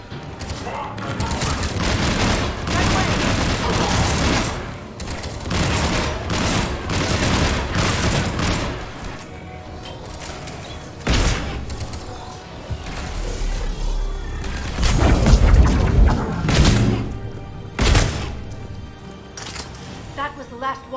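Bursts of automatic gunfire and heavy booming explosions fill a Mass Effect Legendary Edition firefight, loud and repeated in waves, mixed with shouted character dialogue and combat chatter.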